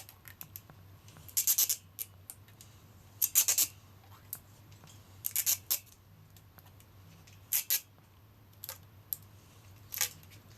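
Several short bursts of crisp scissor snips cutting bicycle rim tape for a tubeless setup, in small clusters spaced a few seconds apart, close and fairly quiet over a faint hum.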